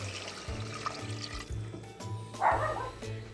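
Chicken broth pours and splashes into a pan over a steady low hum, with a brief louder splash near the end.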